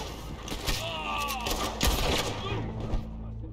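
Gunfire in a Red Dead Redemption 2 duel in a video game, a few loud cracking shots in quick succession over a busy game background, with voices also present.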